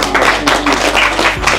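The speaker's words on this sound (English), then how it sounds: "A big round of applause." Audience applause at a boardroom leadership talk, a dense burst of close clapping from a seated crowd for a coach's story, loud and continuous over a second and a half with a low room hum beneath.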